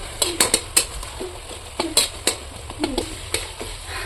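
Metal clinks and clatters against a pot of bamboo shoot curry as a lid is handled and set in place, a series of sharp, close taps over a low background hum.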